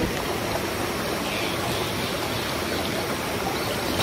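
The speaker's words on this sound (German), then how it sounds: "Wir sind jetzt am Bach." A stream flows near Manoa Falls in Hawaii, a dense, steady rushing of water close by that holds at an even loudness from start to finish, with no voices.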